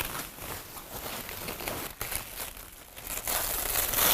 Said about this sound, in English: let's go ahead and unwrap this thing